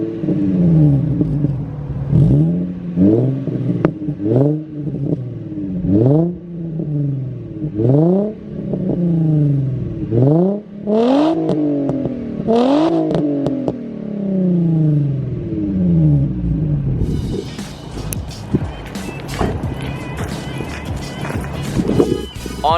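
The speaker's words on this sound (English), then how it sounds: "I'm gonna go ahead and give you guys a couple revs of the Z" Nissan Z with a muffler-delete exhaust revs repeatedly, each loud rising-and-falling engine sweep following the last in a steady series, close and dominant, with crackling pops toward the end.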